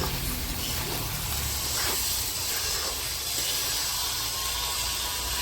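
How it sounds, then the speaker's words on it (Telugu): Eggs and dried fish frying in oil in a pan, giving a steady, close, continuous sizzling hiss with no pauses. "ఫ్రై అవుతున్నాయి, ఒక్కసారి కిందకి మీదకి ఇలా కలుపుకోండి."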